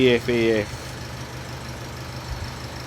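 A 2010 Nissan Qashqai 2.0 dCi diesel engine idles with a low, steady rumble throughout, with a brief voice-like tone at the start before the hum continues alone.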